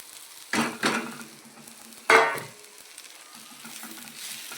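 Crumbled leftover chapati pieces go into a pan to roast, with a few distinct clattering stirs and scrapes against the metal over a faint low sizzle, otherwise fairly quiet.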